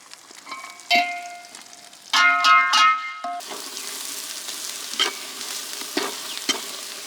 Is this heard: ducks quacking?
no